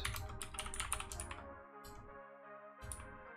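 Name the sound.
typing on a computer keyboard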